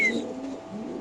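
A red checker racing pigeon held in a cage, giving a soft, low coo that is fairly close and steady for a moment, with faint background noise around it.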